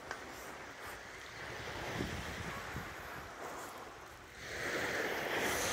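Sea waves and surf wash steadily around a swimmer bobbing in the sea off the coast of North West England on a hot day, with gusty wind buffeting the microphone throughout.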